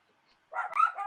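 Dogs bark in a short, moderately loud burst of yips and barks close by indoors, after a brief silence.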